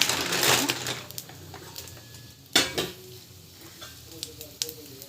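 Peanuts and dal frying in oil in a home kitchen, a soft sizzle under scattered clinks and scrapes of a spoon against the pan, with one sharp knock midway and no talking.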